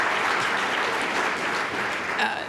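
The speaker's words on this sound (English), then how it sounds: "Let's give her another round of applause." A lunch session audience applauds steadily, a dense wash of many clapping hands that fills the whole stretch at a fairly loud level with no voices over it.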